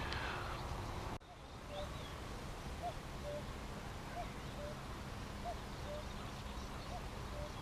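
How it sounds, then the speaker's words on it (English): A faint, distant cuckoo repeats its soft two-note call at a steady rhythm over a low outdoor hum, in a pea field in spring. "Lovely to hear that cuckoo in the background,"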